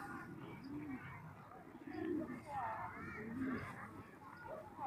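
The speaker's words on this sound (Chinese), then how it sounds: "还有鸽子呢" Pigeons cooing at a farm, soft repeated low coos drifting under nearby chatter and background murmur, quiet and somewhat distant.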